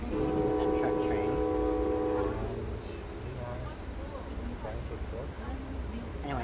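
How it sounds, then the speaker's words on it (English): Aboard an Amtrak passenger train, a horn blares with sustained harmonic tones for the first two seconds, then a steady low rumble of the rail car rolling along the track continues, with a voice talking over it. "So now I'm on the train, the Amtrak train."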